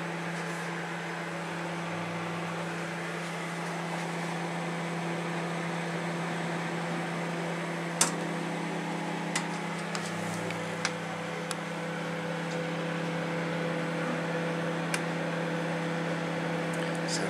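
A microwave heater runs with a steady mechanical hum and whir, broken by a few sharp clicks and ticks, heard close and alone throughout.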